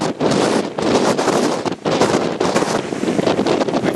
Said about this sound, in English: wind is making for some really spectacular waves